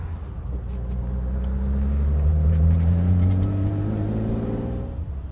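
A 1972 Ferrari 365 GTC/4 with a 4.4-liter V12 and side-draft Weber carburetors pulls on the road, a deep, smooth engine drone rising steadily in pitch as it accelerates, heard close from inside the car.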